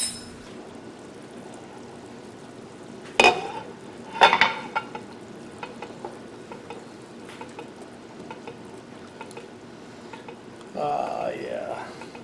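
Beef fajita soup with meat, potatoes and onions ladled from a pot: a couple of sharp metal ladle clanks against the pot, then soft liquid pours and stirs, fairly quiet at close range, with occasional speech.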